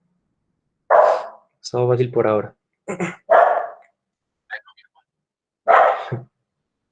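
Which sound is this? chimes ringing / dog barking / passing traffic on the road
dog barking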